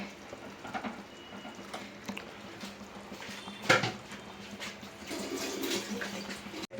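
A low, steady bubbling simmer of sardine curry with black pepper coming to a boil, with soft patter, a brief louder splash or clink near the middle, and no talking.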